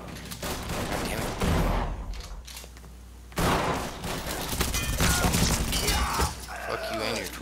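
Heavy 12-gauge shotgun gunfire in the video game Mafia 3, loud booming blasts in rapid bursts with a brief lull midway, then resuming with shattering and clattering debris.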